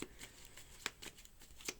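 A Druid Craft tarot deck is shuffled by hand, producing soft, faint riffles and a few sharper card snaps at irregular intervals in a quiet room.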